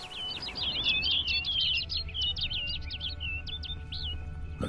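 Bright, rapid bird chirps and trills from a video game bird, repeating steadily and fairly loud over a low rumbling ambient bed.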